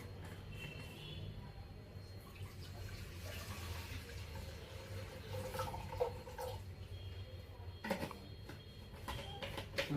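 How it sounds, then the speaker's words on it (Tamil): Water is poured into a pressure cooker sitting on an induction cooktop, giving a faint, continuous trickling splash with a few louder splashes near the end. "தேவையான அளவு தண்ணி ஊற்றிக்கிறோம்."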